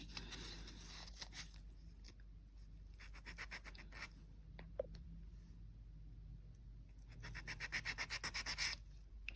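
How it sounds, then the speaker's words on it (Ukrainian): Rapid rasping strokes of a nail file scraping the free edge of an extended nail, pressed hard, in quick bursts with short pauses, close and fairly quiet. "ось так впираю пилку, прям сильно впираю пилку, щоб вона мені не виляла"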